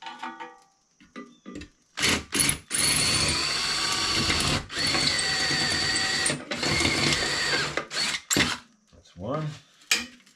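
A power drill working on a 1981 Huffy bicycle frame, whirring loudly in several bursts of a few seconds each, broken by short pauses and clanks, close to the microphone.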